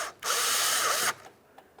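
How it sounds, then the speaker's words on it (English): A Phillips screwdriver snugs a small screw into plastic on a 2012-2015 Honda Civic interior door handle: a brief, close, dry scraping rub lasting under a second, then quiet. "Use our Phillips head to snug it up."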